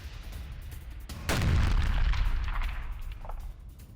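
A deep artillery boom from a bombardment of a Russian-occupied area in the war in Ukraine bursts out after a low rumbling background, its blast rolling and fading over a couple of seconds.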